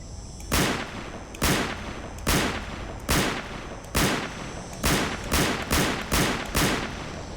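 Rifle fire in STALKER: nine evenly spaced, sharp single shots ring out close and loud, each with a short echoing tail, at a slow, steady rhythm.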